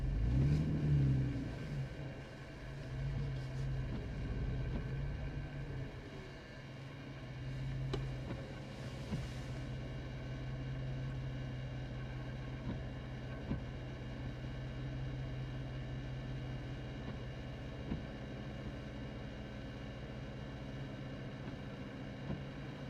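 A car passes on a road during a storm chase: a loud engine rush at the start fades into steady low road and engine rumble, with faint ticks over a constant background hum.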